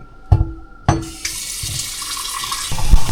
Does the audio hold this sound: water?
yes